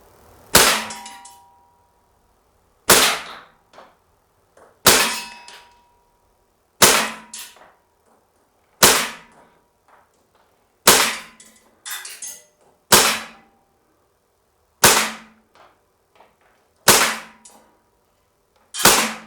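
Air Venturi Springfield Armory XDM blowback CO2 BB pistol firing ten sharp, evenly spaced shots that clang off a metal target, each crack followed by a short ringing decay, with no talking.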